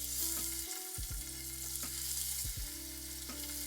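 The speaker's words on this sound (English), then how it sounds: "I want to cook the scallops in that, also with some olive oil" Scallops fry over medium heat in prosciutto fat and olive oil, sizzling steadily and close up, with occasional clinks of a pan or utensil and a faint background tone.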